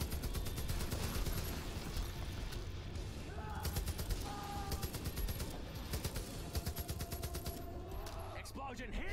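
Rapid bursts of gunfire from the video game Far Cry 5 crackle repeatedly over a constant rumbling background, with short volleys and some distant booms.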